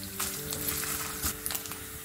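Small pieces of coconut sizzle and crackle in a hot pan while being stirred, with a steady close frying hiss and a few soft scraping strokes, no voices.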